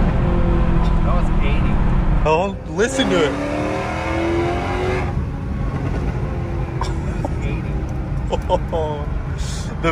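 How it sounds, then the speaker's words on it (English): Supercharged Mercedes C63 AMG engine loud and steady from inside the car, with a rising rev sweep and sharp bursts that fit backfires, while people talk over it. "The backfires are crazy. Yeah, it backfires more and it's cool."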